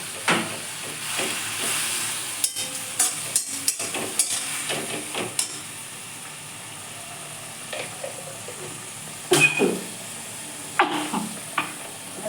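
Garlic cloves frying in hot oil for a fried stinging-nettle leaf dish, a soft steady sizzle broken by repeated sharp scrapes and knocks of a spatula against the pan, near and fairly quiet, no voices.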